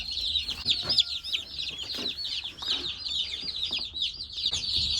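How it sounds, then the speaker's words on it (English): Forty baby chicks in a brooder peeping continuously, a dense chorus of high, rapid chirps close by with soft background rustling. "So we now have 40 chicks, 20 here, 20 here"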